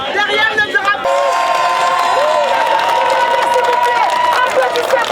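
At a street demonstration on Place Vauban held in solidarity with Guiana, a large crowd cheers, shouts and claps loudly. Voices call out over the dense, continuous roar, which swells after the first second.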